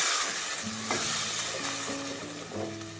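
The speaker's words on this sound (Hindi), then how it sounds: "इसमें मैं शामिल कर दूंगी प्याज और टमाटर का पेस्ट" A paste of onion and tomato sizzles steadily in a cooking pan, the loud, continuous frying hiss running without a break and with a faint stirring scrape over it.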